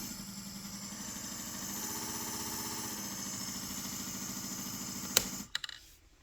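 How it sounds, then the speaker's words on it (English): A suction pump on a fly olfactory conditioning apparatus hums steadily for about five seconds, its tone shifting briefly mid-run, then cuts off with a click and a few faint knocks. "So you can turn this on at the back, and this knob lets you adjust the amount of suction."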